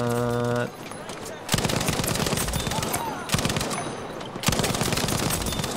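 Lewis Gun machine gun firing in Battlefield 5, loud sustained automatic bursts close up, broken by short pauses, after a brief tonal game sound at the start, with a voice talking in places.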